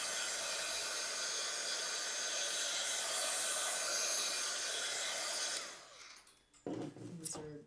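A hair dryer blows close by to dry paint, giving a loud, steady whooshing hiss for about five seconds. It then cuts off and is followed by brief quieter rustling.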